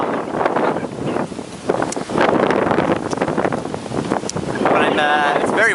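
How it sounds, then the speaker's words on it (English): Strong wind gusting outdoors, a loud broadband roar buffeting the microphone in uneven surges throughout. "It's very windy right now."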